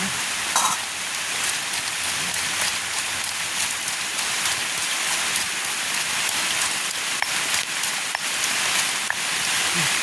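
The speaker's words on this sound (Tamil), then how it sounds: "நாங்கள் வீட்டுக்கு போவோம் மழை வருது" Steady rain patters on a surface nearby, a constant dense hiss with occasional louder drips and taps.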